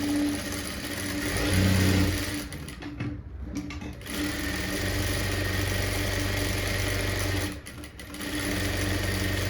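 Sewing machine stitching a blouse sleeve in a tailoring lesson, running in a steady continuous whir with a brief pause in the middle and another short dip near the end.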